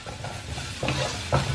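Chopped onions, shallots and garlic stir-fry in a pan with a steady sizzle, while a utensil scrapes and stirs in a few distinct strokes close by.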